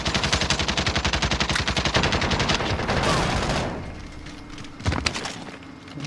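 Rapid automatic gunfire in a video game, a loud regular burst of shots that runs for a few seconds, gives way to a lingering rumble, then a sharp single blast and a fainter tail.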